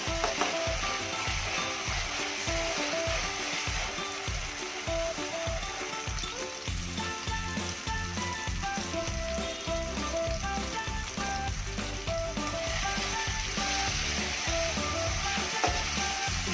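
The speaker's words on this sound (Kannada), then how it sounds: "ಇನ್ನೊಂದು 2 ಮಿನಿಟ್ಸು ಟೊಮೆಟೊ ಫ್ರೈ ಆಗಲಿ." Tomatoes fry in a pan with a dense, unbroken sizzle and crackle that holds steady throughout, close and moderately loud.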